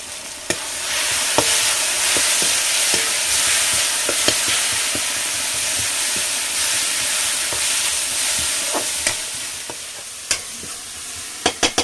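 Spice masala with turmeric and dry chili powder fries loudly in a pan, a dense continuous sizzle broken by sharp clicks and knocks of the stirring spoon.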